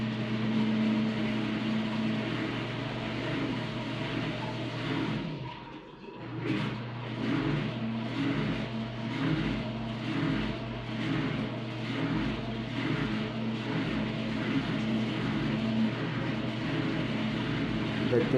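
Hitachi washing machine on a water line running through its spin cycle: a steady, droning motor hum with a pulsing rotational rhythm, briefly dipping midway before resuming at higher speed, with no talk.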